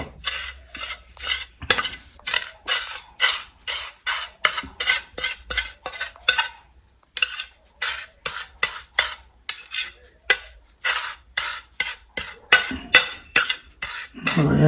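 Burnt human hair being crushed into powder in a pot with a small stick, giving a steady run of close, rhythmic scraping and grinding strokes with brief pauses and no talking.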